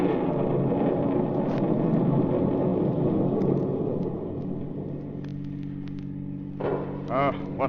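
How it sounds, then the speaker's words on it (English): A thunderstorm sound effect in a golden-age radio drama: a deep, rolling rumble dominates for several seconds, then fades under a steadier low hum, with brief voice sounds near the end. "What a thunderstorm."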